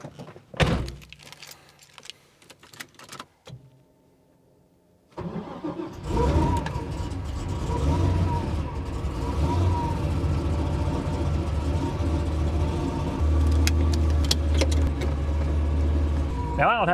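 A Chevrolet Tahoe is started on a cold day: a few clicks and door sounds, a brief pause, then the engine cranks and catches and settles into a steady close idle, with someone talking over it.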